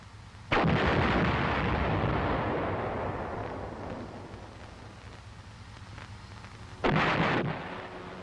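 The main gun of an M551 Sheridan armored airborne assault vehicle fires twice, each a loud, sudden blast; the first trails off into a long rumbling decay, and a second sharp report comes about six seconds later, with no talk.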